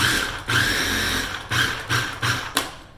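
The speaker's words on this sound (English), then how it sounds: "I'm gonna pulse this" A food processor pulses pesto ingredients, basil and a pinch of red pepper flakes, in about five short, loud, whirring bursts separated by brief gaps.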